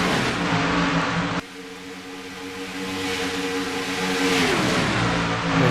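Race cars in an oval racing video game at Atlanta, engines roaring and accelerating loudly as the pack sweeps past, a steady dense drone that dips briefly then swells back up.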